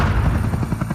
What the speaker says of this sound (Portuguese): Um segundo helicóptero, o Black Hawk Super 64, pilotado por Mike Duran, é atingido